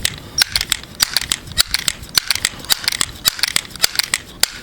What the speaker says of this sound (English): I pump up 10 pumps